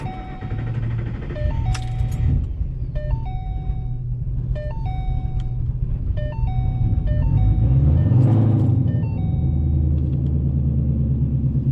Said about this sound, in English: You just witnessed the startup firsthand.